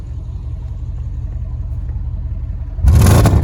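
An Audi S6 engine idles with a steady low rumble, then suddenly revs up loudly near the end.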